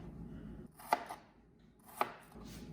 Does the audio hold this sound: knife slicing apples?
yes